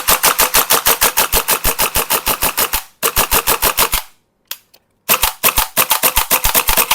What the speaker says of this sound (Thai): หมดแล้วลูกหมดละ ลูกหมดแล้วนะครับ แต่ก็ยังยิงเล่นได้